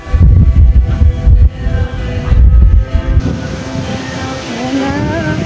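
A strong wind roars in an open outdoor spot in the Philippines, heavy gusts pounding the microphone in loud bursts before easing into a steadier rushing hiss.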